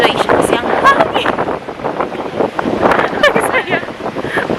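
Gusty wind at Genting Highlands, Malaysia, buffets the microphone, roaring and fluctuating throughout, with voices talking underneath.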